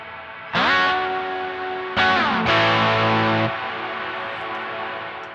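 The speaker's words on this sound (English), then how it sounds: "So we can go all the way up to full canyon reverb." Distorted electric guitar chords ring out through a MayFly Audio Sunrise amp simulator with reverb at full canyon setting, each strike trailing into a long, cavernous reverb wash that hangs and slowly fades.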